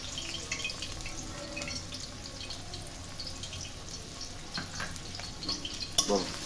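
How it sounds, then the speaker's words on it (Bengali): Chopped onions and sliced green chilies frying in hot oil in a wok, a faint continuous sizzle broken by scattered spatula scrapes and a sharper clink near the end. "তারপর তাতে প্রথমে পেঁয়াজ কুচি ঢেলে ২-৩ মিনিট পর কাঁচামরিচ দিয়ে বেশ কয়েক মিনিট নাড়াচাড়া করে নিলাম"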